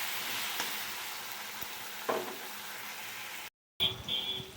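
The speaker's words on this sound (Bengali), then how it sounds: "ভালো করে নাড়াচাড়া দিয়ে ভাজবো এটাকে" Tomatoes frying with chilli, cumin and turmeric in a pan give off a dense, even sizzle close by. One clear stirring knock comes midway, then a brief gap in the sound before the frying resumes.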